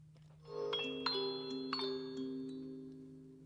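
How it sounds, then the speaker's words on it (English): Soft, xylophone-like struck tones layered with another sustained instrument in Bloodborne game music, a few gentle chiming notes ringing out and fading over a low held drone. "it sounds like a xylophone and some other instrument layered"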